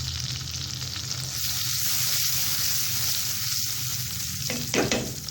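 Peas added to a masala base sizzle steadily in a hot pan for macaroni, with stirring scrapes and a burst of hissing near the end, no voices.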